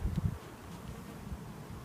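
Honey bees buzz around a closed beehive with its lid on, a low steady hum that is strongest at the very start and then settles into a faint, continuous drone with light rustle.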